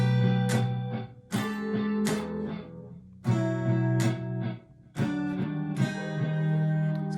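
A guitar strums the chords of part 2 of a song, close and clear: sustained chords rung out with fresh strums every second or so and brief pauses between phrases, with no talking.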